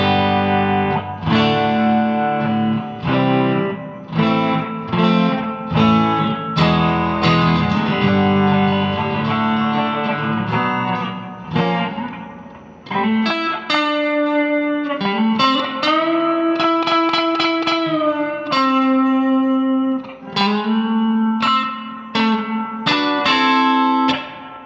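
A Fender American Deluxe Stratocaster plays through a Fender Mustang amp on its '59 Bassman model with reverb, strummed chords and ringing single notes in a steady, loud, close phrase with no talking.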